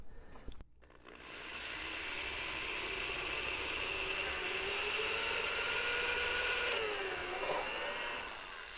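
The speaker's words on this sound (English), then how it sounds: "gonna drill this out with a 13/64 drill bit" A drill with a 13/64 bit bores a hole in a block for an RC plane kit build, whirring up after a click and running steadily, fairly faint, then winding down near the end.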